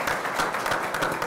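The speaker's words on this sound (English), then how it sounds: "Let's give her a round of applause for being here" A seated audience at an economic development conference gives a female panelist a steady round of applause, dense and even for the brief moment with no talking over it.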